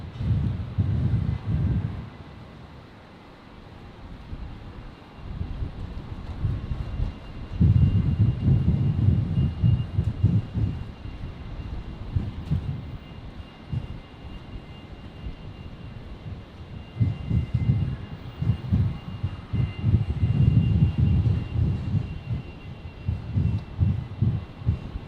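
Qantas Fokker 100 airliner taking off from Brisbane Airport, a steady low engine roar that swells and fades in repeated surges over about twenty-five seconds, with wind buffeting and no talk.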